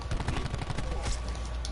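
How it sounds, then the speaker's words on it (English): The Maddox assault rifle from Call of Duty: Black Ops 4 fires in rapid automatic bursts. Dense, continuous gunfire dominates the mix with little gap between shots. "This Maddox is probably like the best assault rifle in my opinion."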